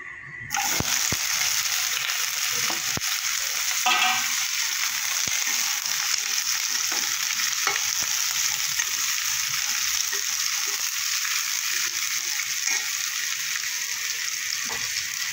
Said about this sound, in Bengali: কড়াইতে আমি একটু সরষের তেল দিয়ে দেবো, একটু দিয়ে এবার চিচিংয়ের একটু হালকা করে ভেজে নেব।